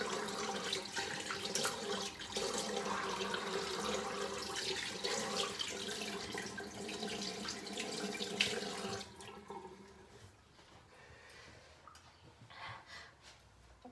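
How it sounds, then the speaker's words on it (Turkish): A bathroom tap runs steadily while someone washes their face and brushes their teeth, loud and continuous for about nine seconds before the flow stops, leaving quieter splashes and breathing. "yüzümü ve dişlerimi fırçalayıp yüzümü yıkayabildim"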